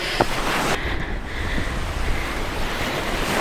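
Mediterranean sea waves wash steadily against the coast at Antalya, a continuous rushing surf with gusty wind buffeting the microphone and no voices.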